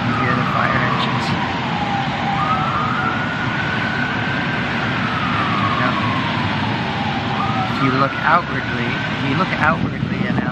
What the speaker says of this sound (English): You hear the fire engines.